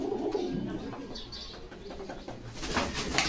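Many pigeons at a pigeon dealer's in Bogura, Bangladesh coo in low overlapping calls nearby, over a busy background murmur.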